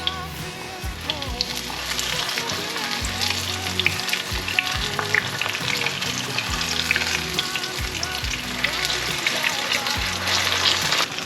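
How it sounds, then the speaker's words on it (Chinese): King oyster mushroom cutlets coated in sweet potato starch shallow-frying in hot oil, a loud dense continuous sizzle and crackle with small pops, close up and steady throughout. "让它炸定型，等下再来翻动。"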